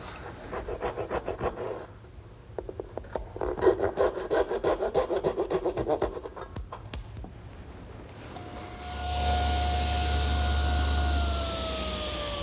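Hand saw cutting a tenon in wood: rhythmic back-and-forth rasping strokes, close and clear, in bursts over several seconds, ending with a louder steady mechanical hum.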